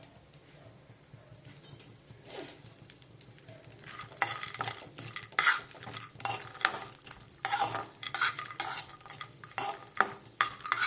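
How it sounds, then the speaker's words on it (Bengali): Cashews frying in ghee in a kadai for winter carrot halwa, a bright continuous sizzle with frequent spoon scrapes and clinks against the pan, close and alone. "ঘিয়ের মধ্যে কাজুগুলো একটু ভেজে দেবো"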